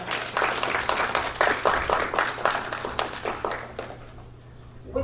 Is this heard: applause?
yes